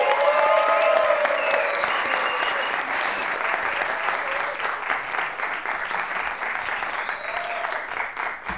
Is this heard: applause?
yes